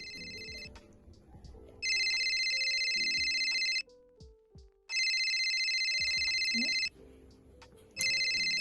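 Electronic phone ringtone chiming in two loud repeating bursts of roughly two seconds each, with a third starting at the end, separated by short gaps of quieter background sound.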